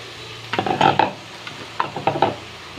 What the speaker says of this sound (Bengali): মুরগি ভাজা এই তেলেতেই আমি বাঁধাকপি দিয়ে দেবো, ক্যাপসিকাম দিয়ে দেবো